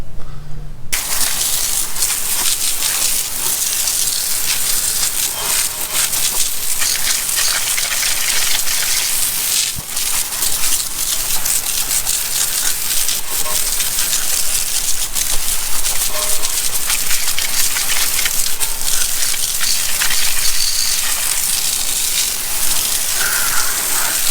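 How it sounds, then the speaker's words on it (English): Car wheels rinsed with a strong water spray after rim cleaner, a loud continuous hissing gush with spattering that runs unbroken throughout. "we're going to rinse them off now"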